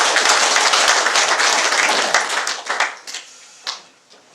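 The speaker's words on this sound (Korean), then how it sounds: "진정한 평화가 올 수 있도록 우리 힘차게 박수 한번 치도록 하겠습니다." A church congregation claps hands together in a loud, dense burst that thins after a couple of seconds into a few scattered, separate claps before fading out.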